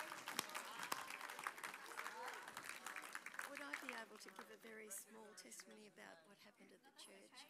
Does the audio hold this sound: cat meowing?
no